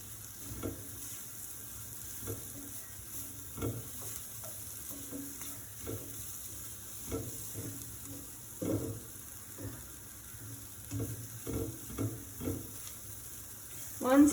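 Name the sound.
stirring onions and lemongrass frying in spices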